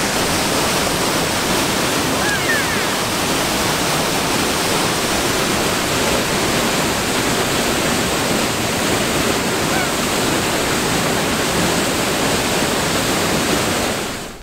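Snowmelt water rushing steadily beneath a bridge in Utah canyon country, a loud, continuous broadband roar with no breaks and no voices.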